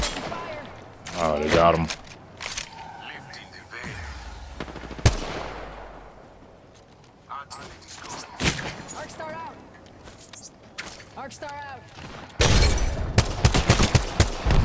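Gunfire in a ranked Apex Legends match: several bursts of rapid machine-gun fire and single loud shots come in sharp clusters, the heaviest barrage at the end, with a player talking in between.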